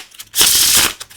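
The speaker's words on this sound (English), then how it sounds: "So I've got a deck of cards here. I could easily shuffle it up" A deck of playing cards is shuffled in one quick riffle, a dense papery burst lasting about half a second, close and fairly loud, with quiet moments before and after.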